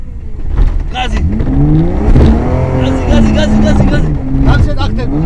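A car's engine revs hard at full throttle, its rising and falling harmonic whine sustained and loud throughout, with a voice talking over it.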